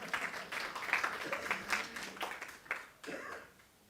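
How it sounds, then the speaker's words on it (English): Audience applause at a live community gathering, a steady patter of clapping hands that swells and fades over a few seconds before trailing off, with a faint voice briefly heard. "let's give her a round of applause"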